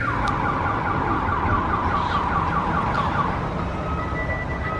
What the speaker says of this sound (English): And also sirens go off freaking everywhere.